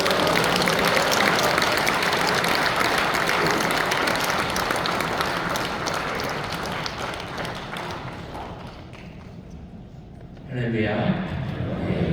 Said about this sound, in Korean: 힘차게 할렐루야 박수로 환영하겠습니다